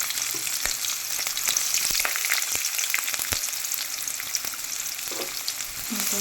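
Chopped onion and green chillies fry in hot oil, giving a loud, steady sizzle with occasional stirring clicks, close up and with no talk.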